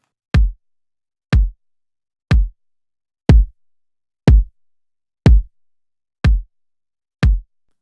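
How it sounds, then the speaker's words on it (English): Unprocessed bottom kick drum layer for a pop production, eight deep, punchy kick hits at an even one-per-second pulse, each short and dry with silence between. "I'm also layering the thin kick with this unprocessed bottom kick, which sounds like this."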